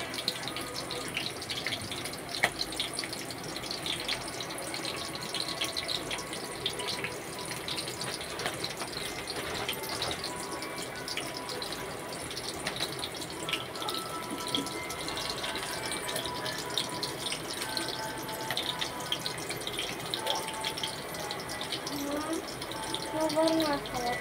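Sliced onions sizzle in a hot pan while a ladle stirs them during tempering for puffed rice, a steady close hiss of frying that runs unbroken throughout.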